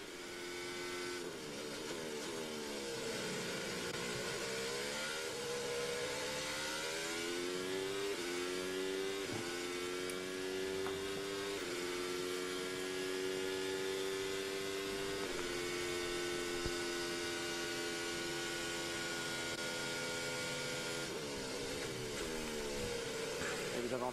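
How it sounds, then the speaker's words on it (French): Formula 1 car at Silverstone during British Grand Prix practice, engine note dropping in pitch under energy recovery while staying flat out, a sustained loud whine that sweeps down and holds, with commentary voices over it. "Vous avez entendu la recharge d'énergie."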